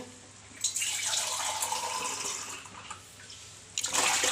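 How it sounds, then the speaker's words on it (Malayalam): Water is poured into a pressure cooker holding chopped green chillies, a steady splashing gush that swells twice, close by with no talk. "വെള്ളം ഒഴിച്ച് കൊടുക്കാവേ"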